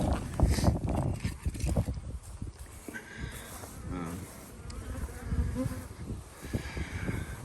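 Wasps buzz around a nest at a cow pasture apiary, a continuous close insect drone with repeated knocks and handling noises mixed in.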